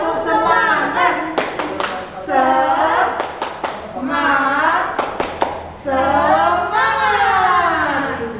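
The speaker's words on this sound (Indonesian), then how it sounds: "Yuk biar tambah semangat, kita sama-sama tepuk semangat lagi yuk." Children's 'tepuk semangat' clapping chant at a Catholic children's faith gathering in Balikpapan: short bursts of sharp hand claps in three rhythmic groups, woven between lively chanted voices.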